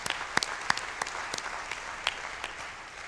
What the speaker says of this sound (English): So please join me in the round of applause again to Michele and his team.